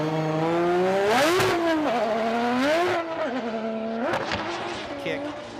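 A Formula Drift Japan car's engine revs hard and rises and falls in pitch as it shifts gears, with tire squeal mixed in, while a commentator talks over it.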